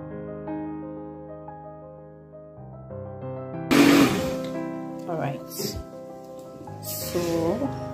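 A countertop blender whirs through frozen apple, frozen spinach and avocado with a little added water in short, loud bursts over steady background music, and a voice talks between the bursts.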